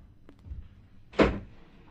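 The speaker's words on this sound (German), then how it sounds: "Bist du so freundlich und öffnest mir die Tür?" A door opens with a short creak early on, followed by a single solid thunk of the latch or door swinging, heard close by with no voices.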